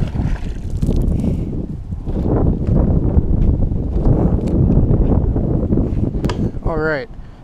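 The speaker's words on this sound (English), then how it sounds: "So that wind seems to be actually picking up, which is not exactly what we want." Wind blowing across the water while kayak fishing in hidden backwaters for summertime bass: a loud, continuous roaring rumble of gusts buffeting the microphone, with a brief chirping sound near the end.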